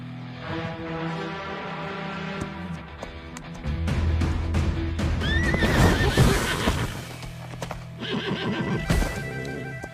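A horse neighs and whinnies over a rhythmic clatter of hooves, close and loud, with several sharp whinny calls rising midway and hoofbeats continuing throughout, no voices.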